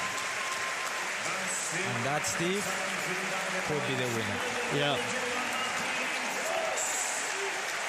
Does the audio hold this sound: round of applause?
yes